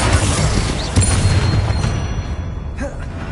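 A spell blast in the video game Hogwarts Legacy booms out as a loud, dense burst that rumbles and slowly fades over a few seconds, with no talking heard.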